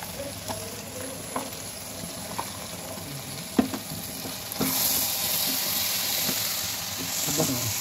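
Chickpea and rice biryani is stir-fried in a pan, a quiet sizzle with scattered spoon taps and scrapes that swells into a steadier, louder hiss about halfway through.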